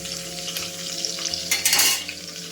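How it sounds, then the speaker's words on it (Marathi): Crushed garlic fries in a pan with a steady close sizzle, and a spoon stirs and scrapes against the metal, swelling to a louder burst of crackle near the end. "आता मी लसूण घेतलेला आहे ठेचून, तर मी याच्यात टाकून घेते. व्यवस्थित फ्राय करून घेते."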